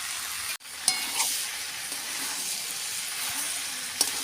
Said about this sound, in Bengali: এবার আমি এই যে ভাজা আলুটা দিয়ে দেবো।